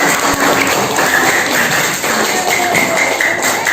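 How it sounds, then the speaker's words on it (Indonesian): Students applaud in a classroom during an Islamic religious education lesson, a loud, dense, continuous patter of many hands clapping with faint voices mixed in. "Kita kasih tepuk tangan semuanya."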